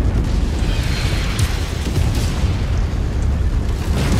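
Heavy explosions in the mech combat game MechWarrior 5, a dense continuous roar of booming blasts and rumbling impacts, loud and close, with no talking.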